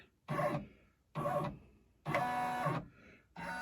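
An embroidery machine stitching on a towel runs in four short, loud mechanical bursts separated by brief pauses.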